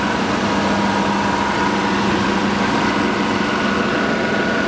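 A 2015 Chevy Tahoe PPV idles steadily with the hood open, a close, even engine rumble with a low hum and no audible knocks or ticks, continuous throughout and without voices.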